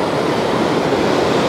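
Ocean waves breaking on a beach in New Zealand, a loud continuous roaring wash of surf with no distinct pauses, heard up close and alone.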